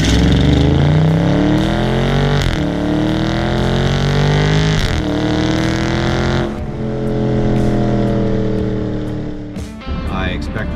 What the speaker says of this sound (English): I've been hearing that Scat Pack exhaust system since they took that last one up for a rip.